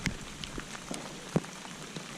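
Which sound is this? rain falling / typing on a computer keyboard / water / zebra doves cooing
rain falling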